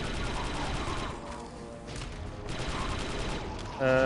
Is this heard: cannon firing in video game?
yes